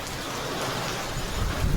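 Heavy monsoon rain pours down in a dense, even hiss, continuous and fairly loud with no voices, with water pooling outside.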